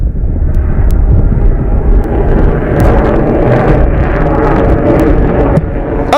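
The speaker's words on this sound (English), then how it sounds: "A carrier-borne 4++ generation fighter, the MiG-29K is equally lethal in air-to-air combat and precision strike missions" A MiG-29K carrier-borne fighter jet flies over a naval fleet review, its engines giving a loud, steady broadband roar that holds throughout with no voices.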